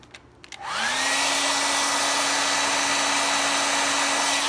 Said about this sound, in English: Take your hair dryer.